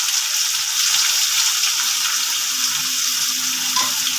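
Finely chopped onions fry in oil after bay leaves and dried red chillies for a chicken spare parts dish, a dense, even, loud sizzle that holds steady throughout, close by and free of speech.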